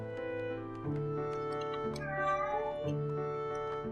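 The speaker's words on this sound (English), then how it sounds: "Meow to you too, kitty." A cat meows a few times over layered tonal game music in the city-building game Rise to Ruins, the calls short and mid-level, with no voice.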